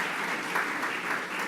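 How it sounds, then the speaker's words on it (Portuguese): An audience applauds steadily throughout at a graduation-style gathering of production engineering graduates, a dense, even wash of many hands clapping at moderate distance with no voices. "Uma salva de palmas a eles."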